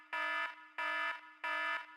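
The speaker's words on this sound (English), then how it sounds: "I can't identify exactly where I've heard this beeping from" A harsh buzzing alarm klaxon from the video game Dark Cloud sounds three times in even pulses, each about a third of a second long and separated by short gaps, loud and alone.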